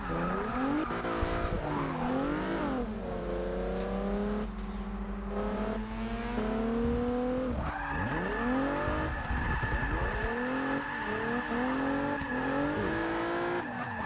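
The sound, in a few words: Mazda RX-7 race car driving, from a racing video game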